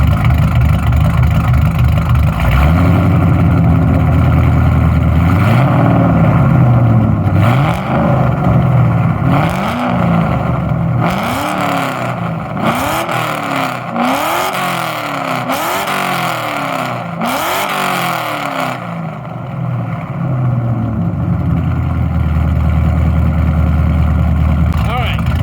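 A car fitted with a Borla Atak exhaust revs from about six feet away in stepped blips rising roughly 1,000 RPM each, a loud, raspy rise-and-fall pattern over a steady idle, with someone talking at times.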